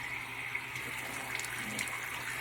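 Running water flowing steadily from a tap while someone washes their face with antibacterial soap, a soft continuous hiss with faint splashes, quiet and close, no voices.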